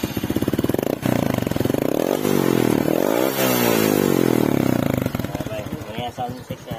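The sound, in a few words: motorcycle exhaust with Spyker power pipe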